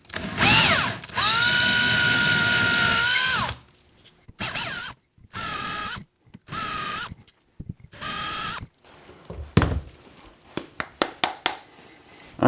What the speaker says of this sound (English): I'm basically just going to drill these out so that they're bigger and the size of the pin